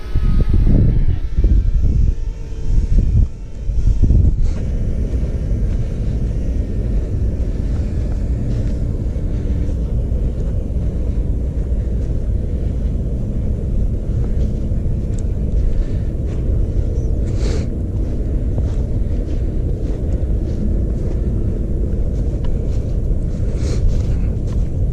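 A DJI Mavic Mini drone flies outdoors in wind, a steady rumbling drone under strong wind buffeting on the microphone, with heavier gusts at the start and no speech.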